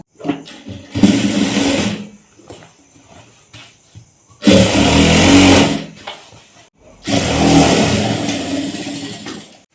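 A sewing machine stitches the side seam of a salwar bottom in three bursts of close, rapid mechanical whirring, separated by short pauses with light handling noise.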